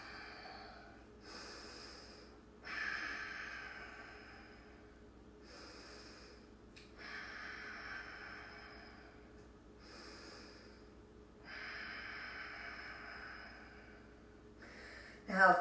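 Slow, steady breathing during yoga practice, with long inhale-exhale swells recurring every few seconds at close range, quiet and unhurried over a faint room hum.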